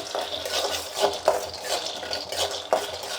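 Peanuts roasting in a pan on the stove for a stuffed brinjal curry, giving a steady soft rattling scrape with a few sharper clinks of a spatula against the pan, close and moderately quiet, with no talking.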